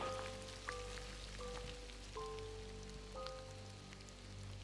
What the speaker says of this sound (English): Really getting a lot of rain.